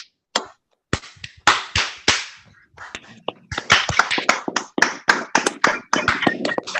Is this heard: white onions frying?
no